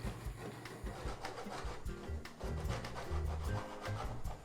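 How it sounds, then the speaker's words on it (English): Cheese, about 200 grams for a cacio e pepe sauce, being rubbed over the punched-hole side of a box grater, making steady close rasping strokes that scrape continuously throughout. "For the sauce, the cheese has to be grated."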